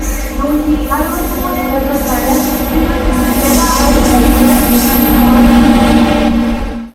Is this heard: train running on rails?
yes